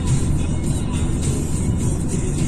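Car engine on a night drive along the DN7 road in the Var, coasting with the accelerator released. It gives a steady, loud low rumble with road and wind noise, unbroken and without speech.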